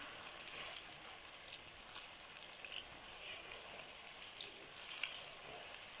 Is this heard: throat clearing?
no